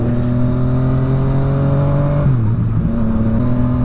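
A loud electric motorbike accelerates in an unfinished part of a neighborhood. Its steady, high motor whine holds close and strong, then dips briefly and recovers partway through.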